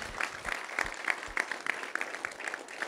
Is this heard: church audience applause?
yes